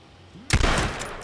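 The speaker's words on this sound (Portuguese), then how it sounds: "Deu um tiro nele" A single loud gunshot in the video game H1Z1 cracks suddenly after a quiet moment, followed by a short echoing tail.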